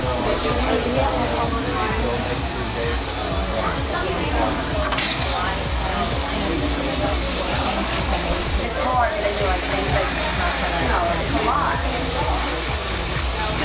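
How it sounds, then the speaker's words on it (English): Warm water runs steadily from a salon sink sprayer while hair is rinsed, a close, continuous hiss and splash under people talking. "you definitely want to use water on the warmer side"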